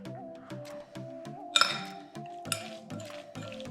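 A fork clinks against a bowl in light, repeated taps while guacamole is mixed by hand, close but fairly quiet over soft background music.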